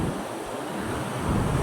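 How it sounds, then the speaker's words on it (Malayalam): Sea waves washing onto a busy beach under hot late-morning sun, a steady broad roar of surf with wind noise across the microphone, no voices. "കണ്ടോ ഗൈസ്, കടൽ കണ്ടോ"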